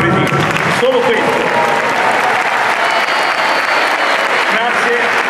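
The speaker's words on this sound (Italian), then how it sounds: "voglio solo fare un grandissimo applauso all'amico Marco Fredini" A large audience applauds loudly and steadily at an opera-in-concert event, the sustained wash of clapping running throughout with faint voices mixed in.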